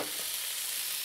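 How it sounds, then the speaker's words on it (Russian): Shrimp frying in a hot pan while being stirred, a steady broadband sizzle with faint scraping, close and continuous throughout the short moment. "Теперь время добавить креветки. Перемешаю."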